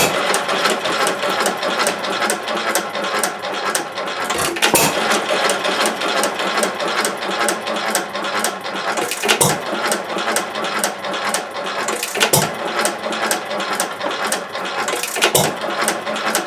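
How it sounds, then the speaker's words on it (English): Antique Stover stationary engine running slowly with the choke fully closed and fuel nearly shut off, a fast steady mechanical clatter punctuated by louder firing thumps every few seconds, close and without speech. "Now I'm going to try to slow it down real nice with using the choke and by restricting the fuel almost to a totally closed fuel valve."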